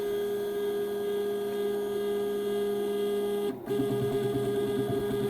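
A CNC 6040 router's Z axis runs with a steady mechanical whine and hum, briefly dropping out before a rougher grating tone returns and continues.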